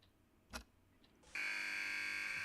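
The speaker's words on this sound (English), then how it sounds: "the buzzer comes in with a vengeance" A game show buzzer cuts in abruptly after a brief thump, a loud, steady electronic tone that holds to the end.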